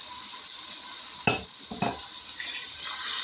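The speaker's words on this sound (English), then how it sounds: "I'm going to pour my beef broth in here and kind of swish that around" Beef broth is poured into a hot cooking pot and swished around, giving a quiet hiss and sizzle with a couple of soft splashy knocks against the pot.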